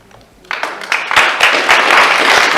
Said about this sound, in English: please hold back the applause